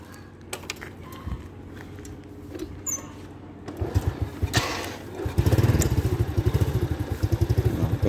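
A used motorcycle engine cranks and catches after a few clicks, then settles into a loud, rapid, pulsing idle that grows stronger toward the end.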